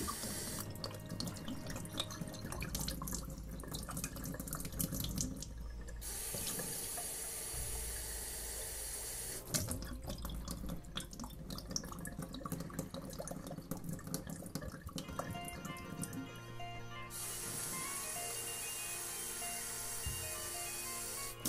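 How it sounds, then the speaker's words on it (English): Tap water runs steadily into a chemical bottle that held ferrocyanide as it is rinsed, with splashing and sloshing that shifts in tone as the bottle fills and empties, close and continuous. "I need to clean this out ready for the next chemical to go in"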